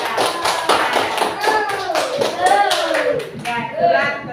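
Clapping for a child after a talk about the Prophet Muhammad's hijrah, a brisk patter of hands running throughout alongside a child's and adults' voices.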